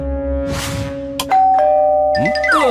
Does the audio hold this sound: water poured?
no